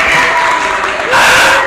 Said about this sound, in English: Let's clap as she makes her way to the stage